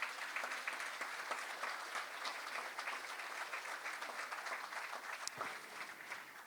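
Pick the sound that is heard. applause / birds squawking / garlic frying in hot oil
applause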